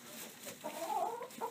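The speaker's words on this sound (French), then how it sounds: "On est présentement dans mon poulailler." Chickens cluck softly inside a backyard coop with nesting boxes and fresh straw, a few faint, close murmuring clucks over quiet surroundings.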